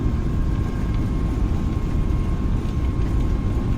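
Airbus A320 airliner taking off in Microsoft Flight Simulator, a loud constant roar of jet engines with a steady whine, dense and unbroken, with no voices.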